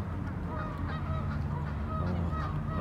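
Geese honk repeatedly at a park lake, a dense overlapping chorus of calls over steady outdoor background noise.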